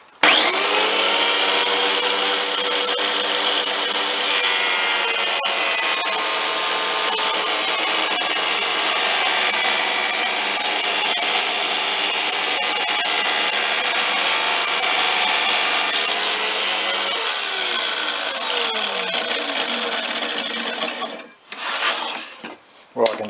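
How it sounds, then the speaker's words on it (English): A table saw converted into a strip wood cutter rips wood for model building, a steady whining cut with a strong high-pitched tonal hum that runs loud and continuous for about twenty seconds, then winds down with a few clunks at the end. "I converted it over now to a strip wood cutter, so I can cut my own strip wood."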